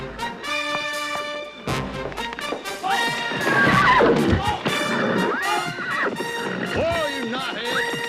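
A horse whinnies loudly several times, with hoof clip-clops and excited shouting mixed in.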